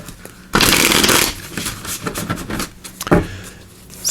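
Light Seers Tarot cards being shuffled by hand, a loud close riffle of papery flutter that bursts in, lingers as softer card slides, then ends with a second brief riffle.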